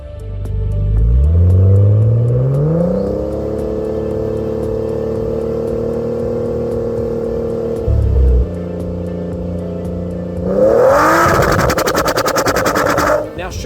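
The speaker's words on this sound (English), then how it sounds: "That's just blatant misfiring and improper fuel mixture caused by the dirty mass airflow sensor" A Nissan Skyline R32 with an RB20DET engine, misfiring from a dirty mass airflow sensor, revs up and holds a loud, uneven drone, then surges near the end into a rough, crackling burst.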